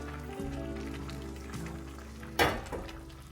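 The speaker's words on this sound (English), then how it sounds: "So we've been simmering." Tortellini soup simmering in a pot on the stove, a soft steady bubbling close by, with a sharper clatter of movement near the middle.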